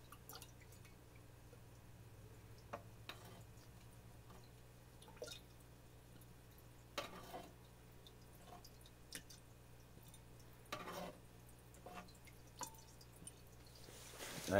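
Small drips and squishes of water as a turkey baster adds a little water to a pico nano reef aquarium for a partial water change, soft intermittent splashes over a low steady hum.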